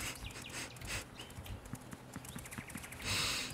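A horse's hooves clip-clop at a steady trotting rhythm in the horse-riding video game Saddle Up: Time to Ride, close and continuous with faint ambient game sounds and a brighter burst near the end.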